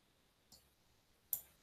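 A computer mouse clicks the Continue button in App Inventor, giving a few sharp, quiet clicks, close up and spaced apart, in an otherwise nearly silent room.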